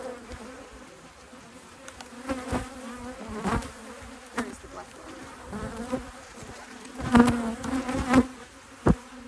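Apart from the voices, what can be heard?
bees buzzing at a top bar hive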